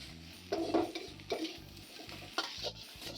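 A metal spatula scrapes and knocks against a steel wok in quick repeated strokes over a steady sizzle of stir-frying rice.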